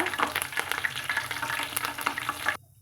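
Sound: drumstick and curry leaves sizzling in ghee

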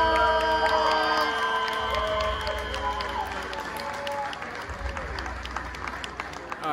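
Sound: audience applause at beard and mustache championship

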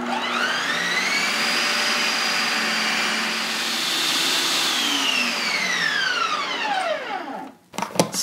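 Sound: ice cream machine spinning coconut oil keto ice cream

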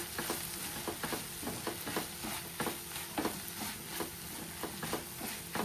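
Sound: frying in a pan for taro leaf curry

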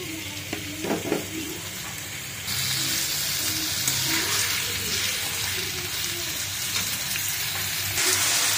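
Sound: potatoes frying in oil for biryani

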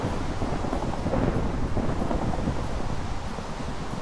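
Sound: thunder from lightning strike in video game Die Insel

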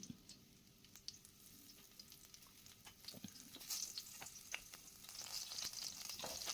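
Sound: green chili and chopped ginger frying in oil

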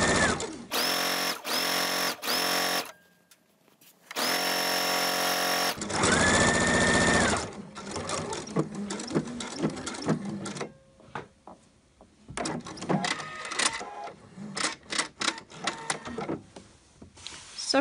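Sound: sewing machine stitching a shirt placket in Liberty fabric

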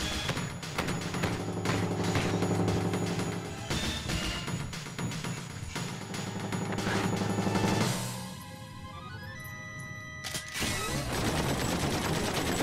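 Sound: machine gun fire in Final Fantasy VIII video game

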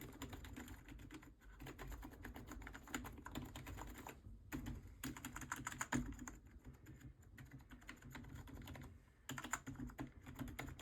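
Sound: computer keyboard keys being pressed

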